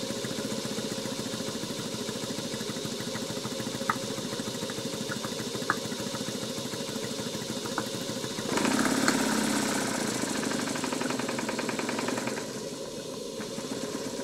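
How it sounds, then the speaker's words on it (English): A vintage Stuart Sirius model steam engine runs steadily with a continuous mechanical chuffing and whirring, growing louder and busier partway through before easing back slightly, with no talking. "I'm going to stop talking and just let you watch and listen to the engine"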